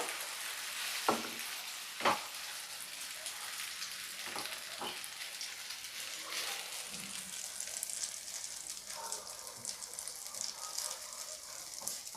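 Bread omelette frying in ghee in a pan gives a soft, continuous sizzle, broken by a few sharp clinks of a utensil against the pan.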